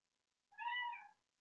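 A single domestic cat meows once, a clear drawn-out call lasting under a second, close and fairly quiet against an otherwise silent room during a tabletop role-playing game session.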